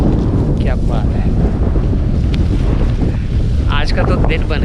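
Strong outdoor wind buffets the microphone in a rural Russian village with no road, a steady loud rumble and roar throughout, with a voice speaking faintly underneath.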